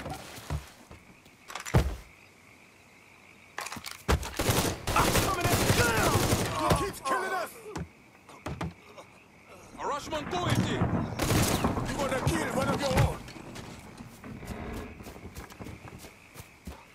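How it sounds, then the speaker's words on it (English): Gunfire in a Mafia III firefight, with bursts of shots crackling in clusters between quieter stretches as characters shout over the exchange. "Shooting that fool!"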